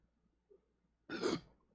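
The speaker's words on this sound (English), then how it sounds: "Oh, I burped. Do you hear that?" A single short burp after drinking pickle juice, close and fairly loud, lasting about a third of a second after a brief faint sound.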